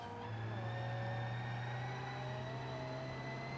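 A car engine in BeamNG.drive during a touge mountain-road race, holding a steady low drone with harmonic overtones that shift slightly in pitch, fairly faint and alone without voices.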